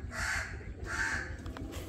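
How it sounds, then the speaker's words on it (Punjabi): A crow caws twice outdoors, two drawn-out harsh calls at moderate distance, fairly faint over steady low background rumble, with no talking. "ਕਾਂ ਬੋਲਦਾ ਪਿਆ"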